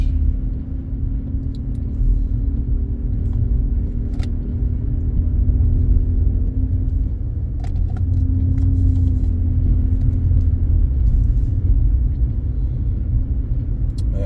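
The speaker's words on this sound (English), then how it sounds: "Driving this car in snow is amazing." A car drives on a snowy road in Montréal on winter tires, its engine and tyre rumble a loud, steady low drone inside the cabin, with faint clicks now and then.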